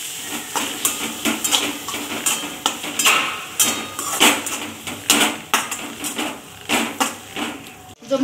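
Peas and tomato sauté in a pan for a Maharashtrian potato bhaji, with a spatula scraping and clanking against the metal in sharp, irregular strokes over a soft sizzle, close and fairly loud, with no talking.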